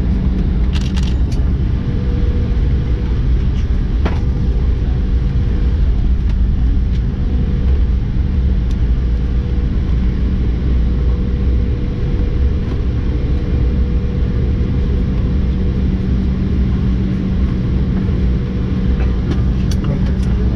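Cabin of an Embraer E175 airliner taxiing to the gate, with a steady, loud low rumble and hum of engines and airframe throughout, with faint clicks and rattles on top.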